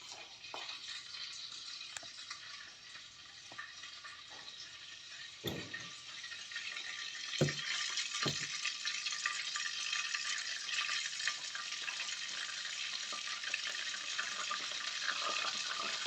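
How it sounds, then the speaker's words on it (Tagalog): Saba bananas frying in hot cooking oil give a steady, fairly loud sizzle and crackle that lasts throughout, with a few sharp pops and spatters where water hits the oil and no talking. "So, magpiprito na tayo ng ating saging saba."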